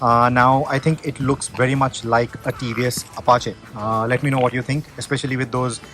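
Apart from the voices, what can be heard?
No everyday noise stands out behind the speech.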